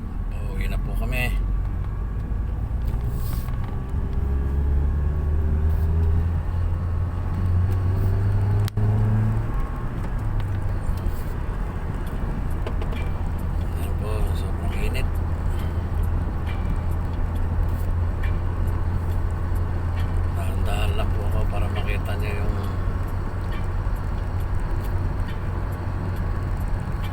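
A car cruising along a highway, a steady low engine and road rumble throughout, close and continuous, with a voice talking over it.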